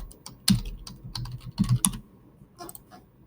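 Fingers tap on a computer keyboard while entering text into a Google spreadsheet: irregular clusters of crisp, close keystrokes with short pauses between them, and no voices.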